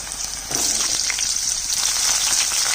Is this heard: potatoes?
yes